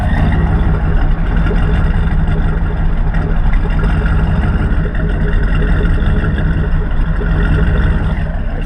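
A 5.3 LS V8 swapped into a 1993 Buick Roadmaster runs steadily through its factory exhaust with the catalytic converter removed, with an LS2 cam and an untuned setup. The engine gives a loud, continuous close rumble with no talking.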